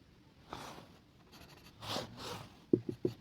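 Chalk or marker scratches across a classroom board while an equation is written out for a two-variable linear equations lesson: faint, scattered scraping strokes, then a few sharper taps and short strokes near the end, with no talking.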